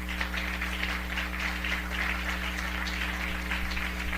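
Church congregation applauding the Lord during a Spanish-language sermon: a steady, dense wash of clapping that holds for several seconds over a low electrical hum, with no talking.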